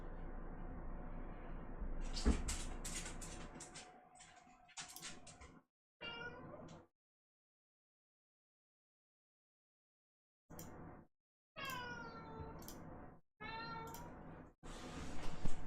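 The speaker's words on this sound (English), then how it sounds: "Oh, my cat's trying to fucking leave." A house cat meows several times at close range, drawn-out rising and falling cries in scattered bursts with long silent gaps between them and some faint background noise early on.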